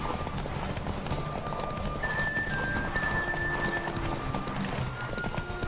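Horse hooves clip-clop at a steady galloping rhythm in The Witcher 3, close and continuous for the whole stretch, with a brief whinny and faint game music tones layered over the hoofbeats.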